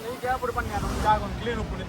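Wind rushes over a fishing boat's engine drone as it enters a harbour, with waves washing nearby, and a voice talks over it.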